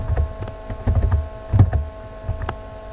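Fingers typing on a computer keyboard while entering numbers into MATLAB, producing a short run of uneven, close, clicky keystrokes with small pauses between bursts and no voices.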